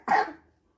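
A single short cough from a girl, sharp onset then a quick fading tail, close and alone.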